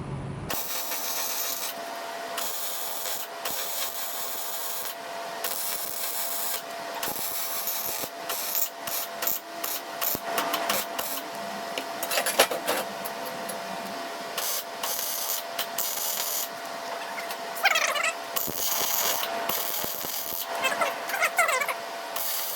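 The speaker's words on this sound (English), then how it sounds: "now we'll just go ahead and weld around there" A metal prop stand is welded, a dense crackling hiss running continuously up close with irregular pops and bursts throughout.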